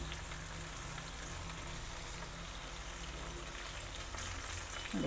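Okra (ladies finger) fries in a little oil in a pan for a South Indian masala fry, giving a steady, close, continuous sizzle with no talking.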